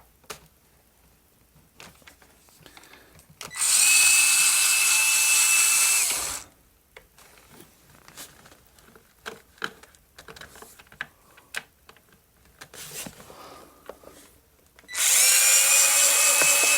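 A power drill fitted with a star bit driving screws into a Honeywell heater: two loud, close bursts of high whirring, about three seconds and two seconds long, separated by quieter handling clicks and taps.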